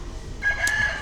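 A rooster crows once at close range in a Bali village near Mount Batur, a loud drawn-out call that rises sharply and holds for about half a second.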